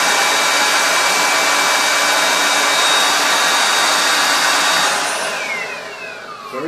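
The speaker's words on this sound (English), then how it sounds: "Very powerful little blower." A LoveWe 21 volt cordless blower running on its second speed level gives a loud, steady, close airy whoosh, then winds down and fades near the end, with no talk.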